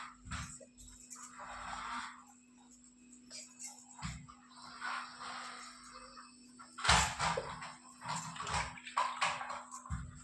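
A clay pot (sugad) for the Bhogi festival is washed with water: irregular splashing, rinsing and scrubbing noises come in bursts, with occasional knocks of the pot, recorded close up over a steady mains hum.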